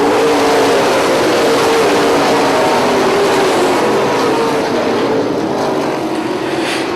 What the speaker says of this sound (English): They hit the gas, come up through the gears. Green flag's out, we're racing.